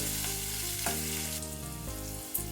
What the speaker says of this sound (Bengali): হলুদ দিয়ে আমি উচ্ছেগুলোকে ভালো করে একটু ভেজে নিচ্ছি